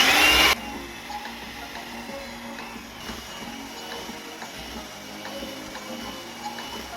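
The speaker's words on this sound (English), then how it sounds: "Now with a hand mixer, mix the two together." An electric hand mixer beating butter and sugar for cupcake batter, a steady mid-level motor whir running continuously after a brief louder burst at the start, with no talking.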